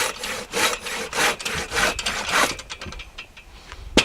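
A Silky BigBoy 2000 pruning saw cuts through wood on pull strokes only, giving rhythmic rasping strokes up close that slow and thin out as the cut finishes, ending in a sharp snap.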